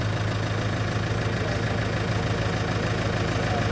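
Bandit 15XPC wood chipper engine running steadily with a continuous low mechanical drone and rumble, near and constant throughout with no voices.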